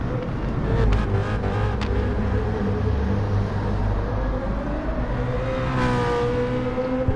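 Engine of a BMW M3 GT race car with a 4-litre 32-valve V8, from the GT Sport video game, holds a steady, loud drone, then revs up and down with shifting pitch partway through.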